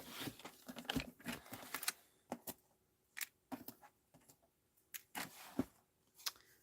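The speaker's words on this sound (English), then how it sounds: "I'm just going to cut this down." Card stock being cut down to size for cardmaking, a series of close, sharp snipping clicks in irregular bursts separated by short quiet gaps.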